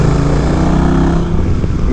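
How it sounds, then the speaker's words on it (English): A motorcycle engine idles with a deep, throbbing exhaust rumble, loud and close, steady throughout with no talking. "Man, that thunder exhaust."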